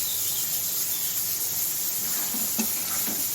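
Spices for a red Bengali ilish fish curry fry in a hot pan, a steady close sizzle and hiss with a few brief stirring scrapes near the end.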